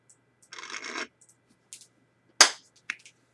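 Playing cards being drawn in a Star Trek first edition card game, heard as a soft shuffling scrape of cards sliding off a deck, followed by a few sharp snaps and flicks of cards laid down, close and quiet.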